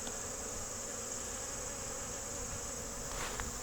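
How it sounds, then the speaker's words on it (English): Bees swarm over flowering buckwheat plants in a field, giving a steady, continuous hum that holds at an even level throughout. "there are just bees all over these buckwheat plants"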